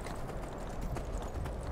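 Horse hooves galloping in Skyrim, a steady rapid clatter of hoofbeats running continuously at moderate loudness over a low rumbling game backdrop.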